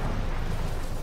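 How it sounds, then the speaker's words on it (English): A grenade blast in Helldivers 2 during a mission against Automaton bots, heard as a dense, loud, rumbling burst that fills the whole moment without letup. "Throwing grenade."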